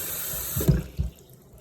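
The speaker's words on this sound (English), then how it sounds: "some of you guys are wondering how I rinse out the potatoes with no strainer. I just use my hand" Potatoes are rinsed by hand in running water at a sink, giving a short burst of splashing and tap flow that fades out after about a second.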